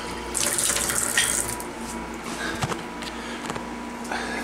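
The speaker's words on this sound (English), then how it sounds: "That's actual full water pressure." A tap running at full pressure, hot and cold both open, gives a steady broad gush of water that holds from start to finish, with a few small knocks underneath.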